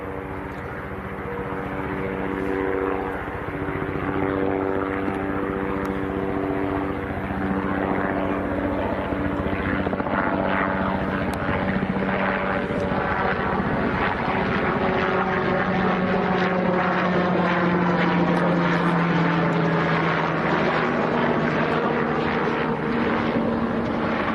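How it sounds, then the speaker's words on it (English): A small helicopter flies near Leeds Bradford Airport, its loud, continuous rotor and engine drone staying close and steady for the whole stretch, with no voices. "That was a little heli that's just popped up out of Coney Park."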